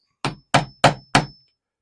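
Four sharp hammer blows strike a nail being started into wood for a rustic suet feeder, evenly spaced about a third of a second apart, loud and close with no talking.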